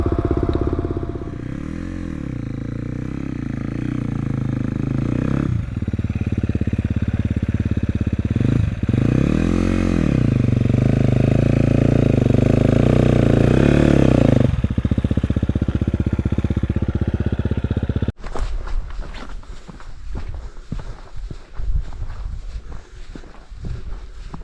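Motorcycles riding on a road south toward Loon Lake, a loud close engine drone with rising and falling revs for most of the stretch, then cutting off into clattering footsteps and handling noises.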